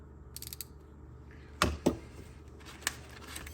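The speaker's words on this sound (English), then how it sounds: "That's a Blackhawk. Old school ratchet wrench." A few quiet, scattered clicks and ratcheting snaps from an old Blackhawk ratchet wrench, close by over a low steady background hum.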